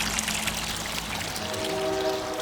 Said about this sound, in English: Right now I am filling the pool